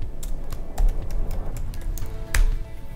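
Computer keyboard typing while entering a spreadsheet formula, a quick run of close, crisp key taps in an irregular rhythm, alone without speech.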